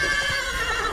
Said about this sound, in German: Der braune Hengst bäumte sich auf, begann ballettreif auf den Hinterbeinen zu tänzeln, wieherte wild und sprang.